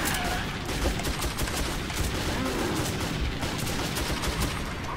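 Gunfire in Metro 2033, a rapid, continuous burst of close, loud shots rattling steadily for several seconds with little pause between them.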